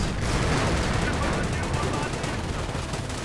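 Dense, continuous battlefield din of an artillery barrage landing in the Company of Heroes real-time strategy game, with rumbling impacts and crackling gunfire layered loudly throughout.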